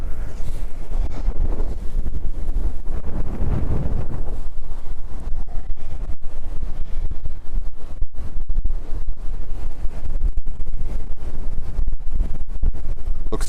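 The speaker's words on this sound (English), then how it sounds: "right now the wind is like is really heavy" Heavy stormy wind buffeting a microphone at an airport, a loud low roar with gusting surges and crackling scratches, continuous and close with no voices.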